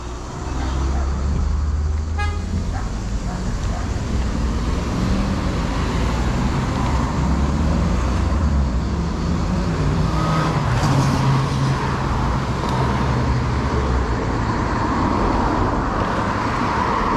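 Traffic rolls steadily along a city street in Marseille's 8th arrondissement, with cars passing close and far and a brief horn toot early on, under a constant roadway hum.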